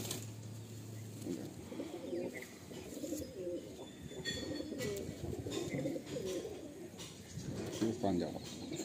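Madrasi pigeons cooing in a home loft, soft repeated low coos and a few chirps, close but quiet, with faint background noise throughout.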